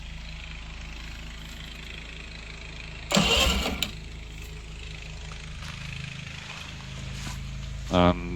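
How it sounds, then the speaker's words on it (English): A Yamaha 55BE outboard motor, sitting unused for years, cranks in a short loud burst that then stops, followed by a second brief crank near the end, with a voice speaking in between. "crank the motor, and it does crank, which is a very good sign."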